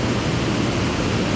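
Loud, steady broadband roar of a waterfall below Center Hill Dam, a continuous close rush of falling water with no pauses and no voices over it.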